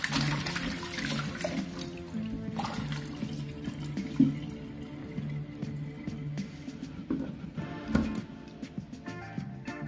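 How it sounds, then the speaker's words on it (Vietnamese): Water from a tap runs steadily into a sink as pork intestines are rinsed, a continuous splashing wash with occasional sharper splashes and handling knocks, no talking. "Khi mà mình rửa sạch nước như thế này"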